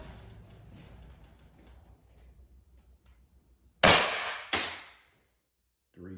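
Pistelle X.68 toy gun fitted with a 3D-printed barrel firing a play ball, two sharp close cracks in quick succession with fast decay, after faint background noise.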